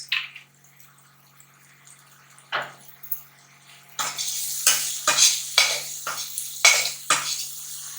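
Oil sizzling in a pan while gola kabab masala is prepared, starting quiet with a couple of scrapes, then a burst of frying hiss with repeated rhythmic spatula stirs and scrapes, near and fairly loud, no talk.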